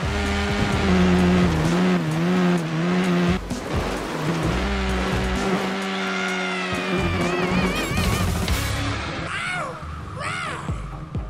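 Motorbike engine from the Trials Evolution video game during a test run on a custom-built track, a continuous revving drone that rises and falls in pitch throughout, with no talking.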